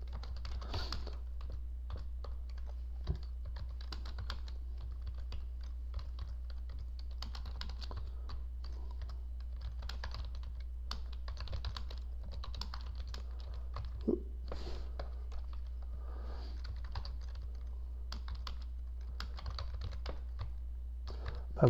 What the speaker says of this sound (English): I'm having a hard time typing,